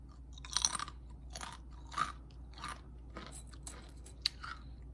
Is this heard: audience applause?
no